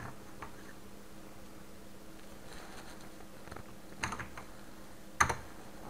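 Typing on a computer keyboard while filling in a voter ID address form: a few sparse, fairly faint keystrokes over steady background hiss, without speech.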